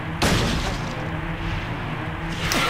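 A hunting rifle shot in the horror video game Silent Hill 2, one loud sharp blast near the start with a booming tail that fills the clip, then a second fainter report near the end.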